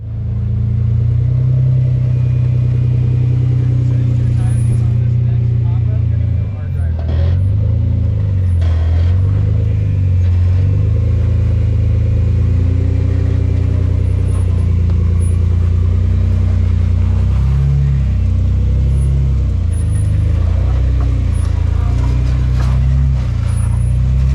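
A modified Jeep on 37-inch tires crawls up the rocks of the Rubicon Trail, its engine a steady loud low drone with slight rises and dips in revs, close and continuous, no talk.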